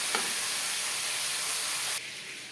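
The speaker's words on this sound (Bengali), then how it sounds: "লো ফ্লেমে মশলা ভাজবো" Spices dry-roasting in a pan on a low flame, a dense steady hiss that briefly drops to a softer level near the end, close and unbroken.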